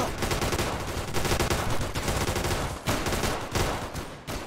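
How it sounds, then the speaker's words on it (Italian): A machine gun fires a long rattling burst in the WWII shooter Easy Red 2, loud and close, with rapid repeated shots and short gaps between bursts. "Ottimo, una bella smitragliata."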